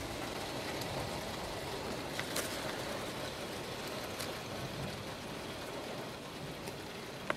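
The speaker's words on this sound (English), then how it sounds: "the rain picked up even more" Heavy rain pours steadily during an electrical storm, a dense, even hiss of drops with occasional sharper splats, continuous and without voices.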